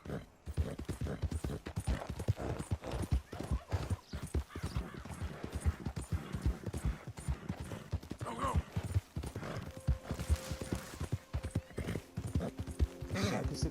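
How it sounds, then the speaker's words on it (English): A horse gallops in Red Dead Redemption 2, its rapid hoofbeats drumming steadily and close throughout, with occasional snorts and a faint tonal cue near the end, while someone talks over it. "Esse cavalo aqui corre bastante."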